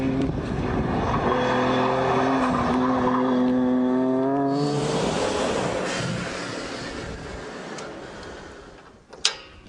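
A 1000 bhp Nissan Skyline GT-R R33 with large turbochargers revs loudly close by, its engine note climbing in pitch with a strong whining drone, then opening into a rougher roar before a sharp pop near the end.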